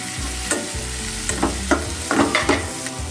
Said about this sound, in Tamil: பூண்டு, வெங்காயம், இஞ்சி பூண்டு பேஸ்ட்டு எல்லாம் சேர்ந்து இன்னும் கொஞ்சம் நல்லா வதங்கணும்.